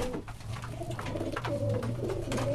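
A prized fancy pigeon with clear eyes cooing in a soft, continuous low warble close by, steady throughout, with faint clicks and rustles around it and no speech.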